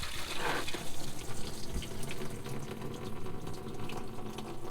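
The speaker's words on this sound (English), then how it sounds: "favorite way to drain coolant is to use a big soil mixing pan" Engine coolant from a 12-valve Cummins diesel pours steadily into a large mixing pan, a continuous splashing gush like water running from a tap, fairly close and constant throughout.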